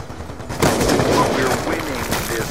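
Gunfire in a Call of Duty: Black Ops 2 team deathmatch, from a Ballista sniper rifle: a sharp loud report followed by a dense, rumbling stretch of shots, with a voice talking over it.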